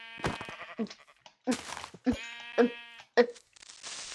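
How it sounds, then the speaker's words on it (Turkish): Several short, bright bleats from a Minecraft sheep, spaced irregularly over a few seconds with game-like sound effects around them; no talking. "A koyun."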